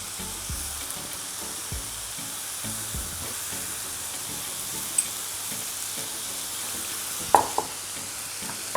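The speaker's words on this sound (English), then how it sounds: "Still on high heat. Add your garlic. Going to add the canned tomatoes." Garlic and canned tomatoes frying over high heat for a plant-based Thanksgiving dish: a constant close sizzle with a few low knocks and a brief sharper clatter of the pan or a spoon, with nobody speaking.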